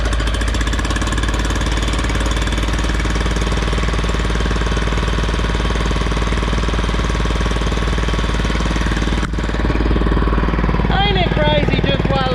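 A tractor engine runs loud and steady after cranking, with a constant rhythmic knocking chug throughout; a brief dip occurs near the end, then a voice starts speaking over the running engine.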